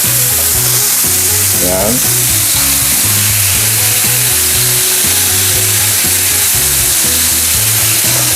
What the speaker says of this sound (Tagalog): Fry lang po natin yung other side ng ating pork